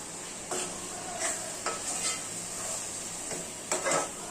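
A spoon scrapes and clinks against a pot while mutton curry is stirred, several irregular strokes over a soft constant sizzle, close and fairly quiet, with no talking.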